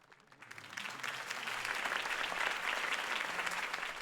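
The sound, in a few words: crowd applause in Batman video game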